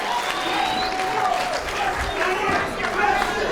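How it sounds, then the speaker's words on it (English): A crowd claps at a pro wrestling match, steady applause throughout under a commentator talking. "Now he's clapping"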